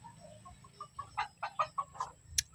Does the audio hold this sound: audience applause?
no